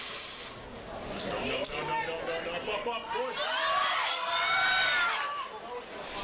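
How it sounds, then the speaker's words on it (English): Spectators at the 2015 USAPL High School Nationals powerlifting meet shout and cheer to push a lifter through his squat attempt, with voices rising to a louder chorus of yells near the end. "You hear the crowd getting behind Kenny."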